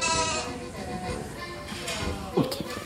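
Sheep bleat in a warm, dry sheepfold on a Dutch island farm at lambing time, with a couple of wavering calls over steady barn noise while a person speaks nearby.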